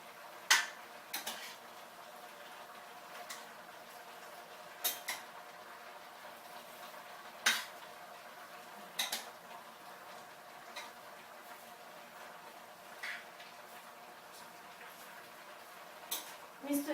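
Utensil scraping and clinking against a pan while sukiyaki meat, onion and vegetables are stirred, with scattered sharp clicks every second or two over a low steady simmer, no talking.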